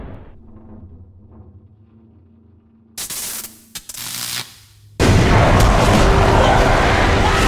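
A sudden loud dynamite blast in the video game Call of Cthulhu: Dark Corners of the Earth bursts in after a quieter stretch of low hum and crackling, leaving a dense roaring noise that fills the rest.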